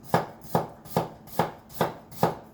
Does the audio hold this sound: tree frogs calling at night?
no